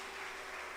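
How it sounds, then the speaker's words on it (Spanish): Church congregation applauding during a Good Friday service in Panama, a steady wash of clapping that fills the whole short moment at moderate level with no voices over it. "Démosle un aplauso al Señor."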